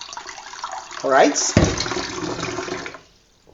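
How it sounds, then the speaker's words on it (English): Water pours into a small pot in a home kitchen, a short close gushing splash that fades out, with a brief spoken word over it. "get good quantity of water into a small pot that can take all the shells with water"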